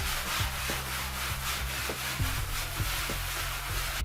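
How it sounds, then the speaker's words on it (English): Repeated scratchy strokes of sandpaper rubbing over a wall surface to smooth down bumps, in a steady back-and-forth rhythm, close up with no talking. "use sandpaper to smooth down any severe bumps in the wall"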